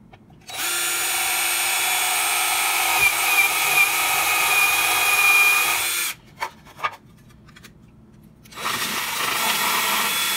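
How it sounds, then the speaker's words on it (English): A power drill bores a hole in a long, steady whine lasting about six seconds. A few short bursts and a pause follow, then the motor spins up again and runs steadily, close and loud, with no voices. "And I'm gonna drill."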